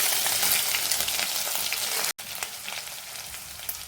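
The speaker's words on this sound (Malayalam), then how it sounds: "ഇഞ്ചിയും വെളുത്തുള്ളിയും നന്നായിട്ട് ചൂടായിട്ടുണ്ടേ." Crushed ginger and garlic with fenugreek seeds frying in hot oil in a pan, a dense bright crackling sizzle up close, loud and constant apart from a split-second gap midway, with no one talking.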